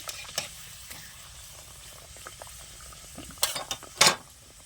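Hand-shaped khasta pea kachoris deep-fry in hot oil with a quiet, continuous bubbling sizzle, broken near the end by a few sharper clinks and spatters.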